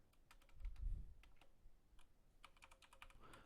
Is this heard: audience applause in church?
no